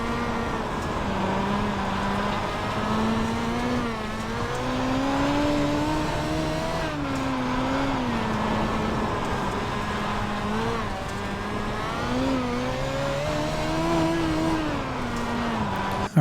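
A race car engine in the iRacing simulator revs up and down in repeated rising and falling sweeps, loud and continuous with a buzzy harmonic whine, no speech.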